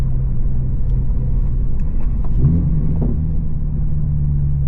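A Subaru with unequal length headers idles with a steady low rumble, then blips its throttle around the middle, giving a short rise in engine note with faint crackling exhaust pops before settling back to idle; no talking.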